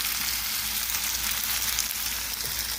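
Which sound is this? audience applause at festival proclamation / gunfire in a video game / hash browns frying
hash browns frying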